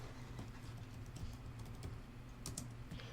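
Rapid, steady keystrokes clatter on a computer keyboard as someone types a message into a chat, with no talking.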